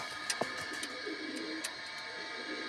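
Soft cooing of pigeons close by, a low murmuring call amid a few sharp clicks and rustles.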